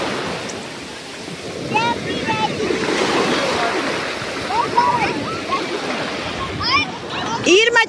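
Sea waves wash onto a beach shore on a calm, clear day, a continuous surf roar with wind buffeting the microphone while children's voices and chatter sound over it.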